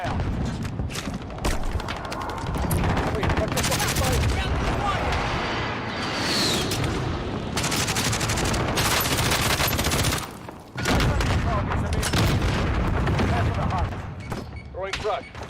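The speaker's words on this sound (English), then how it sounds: "Be advised, friendly airstrike inbound." Airstrike explosions and gunfire in a Call of Duty game roll on as a dense, loud, continuous barrage of shots and booms, with voices talking now and then over the combat.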